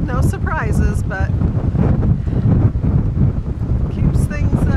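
Strong wind roars across the microphone aboard a boat on the Sea of Cortez, a constant loud buffeting rumble, while a person talks over it in bursts at the start and end.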